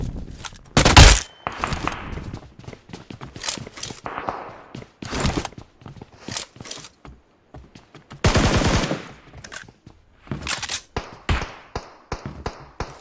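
Bursts of automatic gunfire in PUBG Mobile come in loud clusters with short pauses and sharp single shots between them, all close and punchy, with little talk over them.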